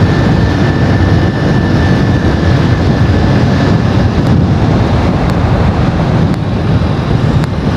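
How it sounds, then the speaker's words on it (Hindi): Loud, steady wind roaring and buffeting the microphone without a break on a bike tour near Namal Lake, Pakistan, a dense rushing noise that fills the whole stretch. "तेज़ हवा।"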